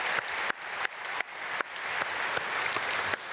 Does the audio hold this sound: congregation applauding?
yes